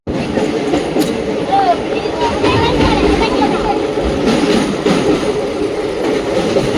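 The SMVT Bengaluru–Kakinada Town Seshadri Express rumbles steadily along the tracks with a dense, continuous roar and faint rhythmic clatter, loud and close throughout, with voices murmuring underneath.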